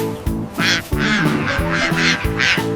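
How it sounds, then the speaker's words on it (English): A duck on a farm quacks loudly and repeatedly in a quick, close series of harsh nasal calls with no talk over them. "Quack, quack, quack."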